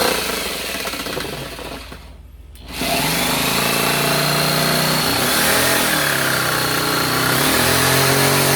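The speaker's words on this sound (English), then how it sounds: "I've got the inverter running and the car running to generate electricity" A car engine idles steadily to power an inverter for RV repair work, a loud continuous mechanical drone with a rough, rattling texture that briefly dips and quiets before resuming at full level.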